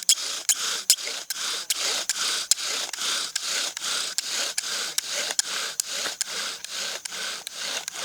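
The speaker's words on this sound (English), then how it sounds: "I'm going to go ahead and seat my drill, so I'm going to burn an indentation into this little groove that I made right here" Bow drill spindle burning a seat into a small carved groove in a wooden board outdoors, a steady back-and-forth friction rasp with about twenty evenly spaced strokes, close and alone.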